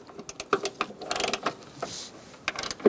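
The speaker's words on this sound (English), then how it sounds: "I do recommend using a ratchet and a socket to crack it loose first though." Ratchet and socket working a strut bolt on a 2004–2009 Mazda 3, a series of close, sharp clicks and creaks in uneven bursts with short pauses between.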